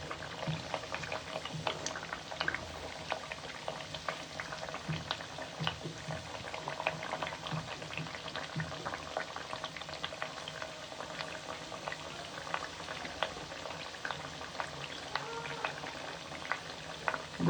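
Sweet tikki fry in oil over medium heat, giving a soft, steady bubbling with scattered faint crackles that continue evenly throughout at a low level.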